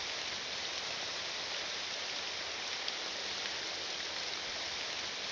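Rain falling in the video game Morrowind: a steady, even hiss of dense rainfall, constant and moderately loud, without other sounds.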